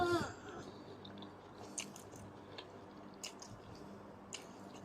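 Crispy fried pork from a Thai stir-fry of Chinese kale being bitten and chewed close up, with soft wet squishing and a few crunchy clicks over about five seconds, quiet and without talk.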